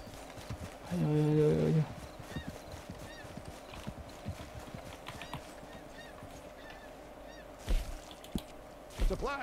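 Steady clip-clop of horse hooves in the video game Red Dead Online, moderately close and continuous, with a short honking burst near the start and a couple of sharp knocks toward the end.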